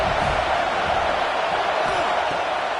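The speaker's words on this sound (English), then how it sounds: "Decibels rising as the crowd gets behind this defense on third down" Stadium crowd at a football game roaring steadily during a third-down defensive stand, a dense, loud wash of cheering noise sustained throughout without clear breaks.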